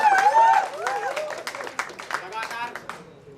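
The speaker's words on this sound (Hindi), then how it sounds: "इनके लिए भी एक बार जोरदार ताली आप लोग बजाइए।" Applause for the director at a Hindi stage play, scattered clapping from the audience running under a voice that speaks over it.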